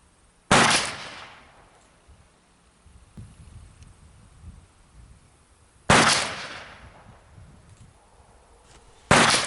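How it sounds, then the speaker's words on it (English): Uberti Walker black powder revolver firing round balls at a range, three loud sharp booms spaced several seconds apart, each with a decaying tail and quiet gaps between. "So we're going to shoot 6 of these and see what goes on with these."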